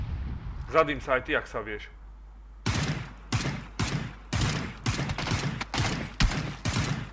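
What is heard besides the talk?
grenade explosions and gunfire in a war video game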